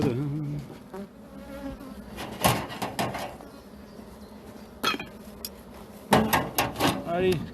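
Honey bees buzzing at a beehive in an apiary, a steady faint hum with intermittent knocks and clatters of hive handling, and a voice speaking briefly.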